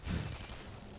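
Shotgun blast in the sci-fi shooter game Tribes Ascend, a single dull boom at the start that quickly fades into a low rumbling tail, fairly quiet.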